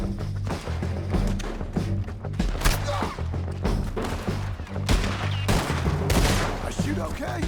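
Rapid bursts of gunfire in a Red Dead Redemption 2 shootout crack repeatedly over a dense, busy game soundscape, with voices briefly audible among the shots.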